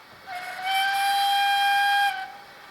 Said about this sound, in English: F3 medium whistle.